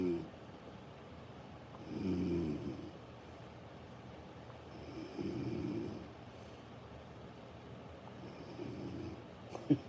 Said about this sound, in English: 10 hours of recorded snoring.